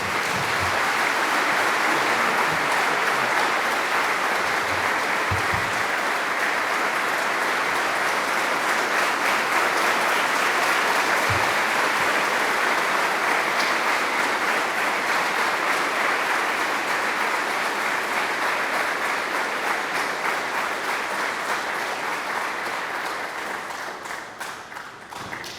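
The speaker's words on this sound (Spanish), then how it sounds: "Lo recibimos con fuerte aplauso." Strong applause from a large congregation welcoming a speaker, a dense, continuous roar of clapping for about twenty-five seconds that only starts to thin out at the very end.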